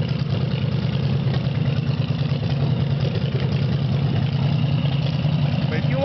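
A custom chopper with a 124-cubic-inch S&S engine sits at idle close by, producing an even, throbbing low rumble throughout with no change in pace.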